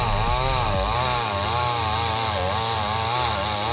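A Kingsaw chainsaw engine running loudly and close, its buzzing whine rising and falling steadily as the throttle shifts.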